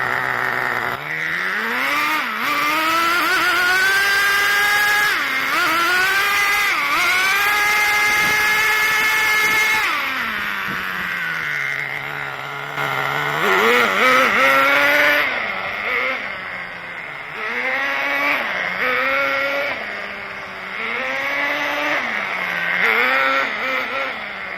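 Redcat Caldera RC truck with a nitro engine running loud and close, its high buzzing pitch rising and falling repeatedly as the throttle is blipped, dipping to a low idle midway before revving hard again.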